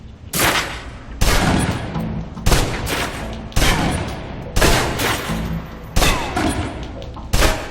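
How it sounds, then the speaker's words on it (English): Submachine gun fire from the video game Alpha Protocol as a full magazine is emptied, heard as loud, rapid bursts of gunfire repeating about every second with short gaps between them. "Now, let's move on to the submachine gun. Now let's empty the clip."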